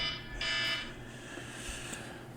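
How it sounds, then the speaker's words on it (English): A timer going off gives a faint, steady electronic beep-like tone. It rises slightly early on and then holds under a low background hum, with no one talking. "If you guys hear like a beeping sound, that's the timer."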